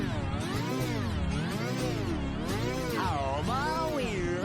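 Heavily distorted cover of a song, a dense, smeared wall of warbling, wavering pitch and noisy grit that stays loud and unbroken throughout.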